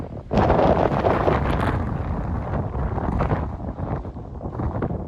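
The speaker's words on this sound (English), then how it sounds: "Quite windy today." Strong wind buffets the microphone on a mountain hiking trail up Turtlehead Peak in Red Rock Canyon, a loud, continuous gusty roar with rustling bursts throughout.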